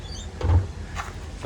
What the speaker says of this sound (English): they've got a slide arrangement which works very nicely